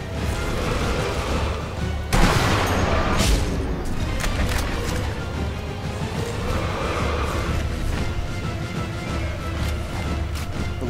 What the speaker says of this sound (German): Jetzt Schuss muss sitzen.